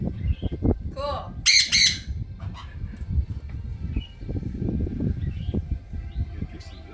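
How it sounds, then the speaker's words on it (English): Pet parrots and parakeets squawk and chirp close by, with shrill calls and rapid bursts of tweeting over a busy indoor background in which people talk. "I have parrots and parakeets."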